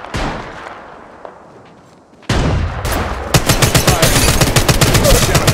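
Rapid automatic gunfire from an Apex Legends ranked match, a sustained burst of close, loud shots in quick rhythm following a quieter stretch of scattered noise.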